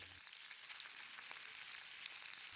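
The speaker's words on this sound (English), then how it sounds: "And you see that pork, how beautifully it's browning." Pork belly sizzles steadily as it browns and crisps in a pan, a faint, continuous hiss with tiny crackles and no voices.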